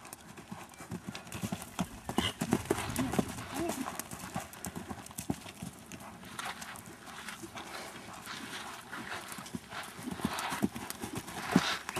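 A horse canters under a rider, its hoofbeats thudding in a steady rolling rhythm on a riding course with jumps, while people talk intermittently and a dog can be heard at times.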